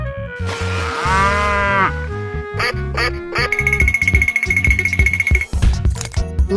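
A cartoon-style cow moos in a long, drawn-out call, followed by bright game sound effects and quacking-like animal noises in a busy, loud mix.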